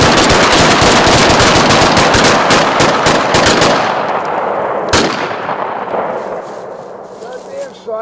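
Handguns fire in a rapid, dense volley at a shooting drill, many overlapping loud close shots for about four seconds, then a single sharp shot and fading echoes with a voice beneath.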